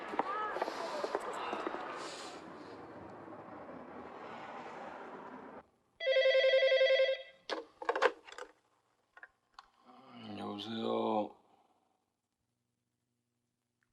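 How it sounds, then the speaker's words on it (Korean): A telephone rings once in a single steady electronic burst, early one morning, after a stretch of muffled room noise. Brief knocks and a short voice-like sound follow in near silence. "그날 새벽 채영의 전화를 받았다"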